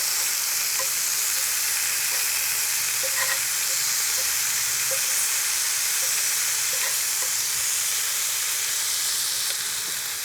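Turkey satay skewers sizzle steadily on a hot grill or plancha, giving a continuous loud frying hiss with small scattered pops and crackles.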